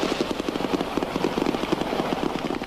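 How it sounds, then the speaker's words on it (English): Rapid, regular cracks of gunfire rattle in quick succession, a continuous burst of sharp reports at moderate volume. "gunfire echoed round the city once again"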